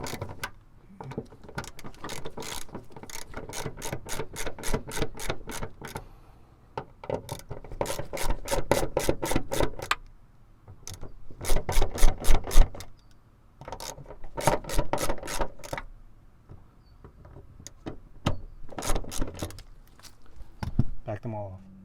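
A ratchet loosens the 10mm nuts on the fuel pump ring of a Mercedes GLK, making bursts of rapid, sharp clicking close by, separated by short pauses.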